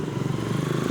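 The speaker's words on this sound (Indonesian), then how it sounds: "ini ada suara sepeda motor lewat ya" A motorcycle engine drones steadily and fairly close on a village road near a bridge, its busy, rough hum filling the whole short stretch with no voices over it.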